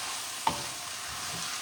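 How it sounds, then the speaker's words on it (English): Vegan crumbles sizzle steadily in a hot pan as they are stirred and broken up while browning, with a single scrape or tap of the utensil. "I'm just breaking it up, but you see how easy it is to work with, and it's starting to get a little bit browned"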